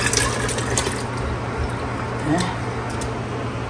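Pineapple sauce ingredients, including garlic chili sauce, poured together into a container: a close, continuous wet sloshing and splashing that fades slightly toward the end, with faint background voice.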